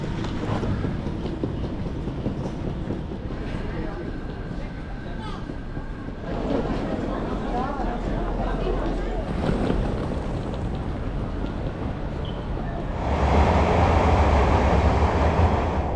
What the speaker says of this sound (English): I'm at Schiphol Airport railway station, ready to get the train to Utrecht.